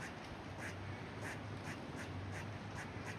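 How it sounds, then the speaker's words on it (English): A bird calling near Cultus Lake, British Columbia, with short repeated squawking notes at a steady rhythm, somewhat distant and faint over a constant outdoor hiss. "Oh, there's a bird somewhere."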